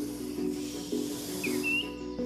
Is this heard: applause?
no